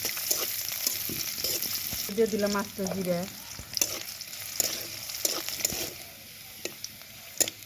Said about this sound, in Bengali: তেলের পরিমাণটা একটু বেশি করে দিলাম। দিয়ে এটাকে ভালো করে ভাজে নিব।